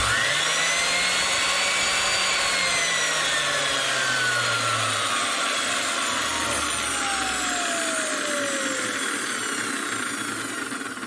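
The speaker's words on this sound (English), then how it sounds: "it is really noisy, a noisy drill" A loud Wolf NW8D heavy-duty electric drill whines steadily and continuously, its motor pitch drifting slightly, with a harsh grinding rattle throughout.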